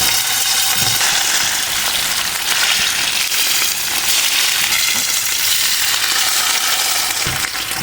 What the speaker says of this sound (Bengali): মাছগুলোকে আমি কড়া করে ভেজে নেবো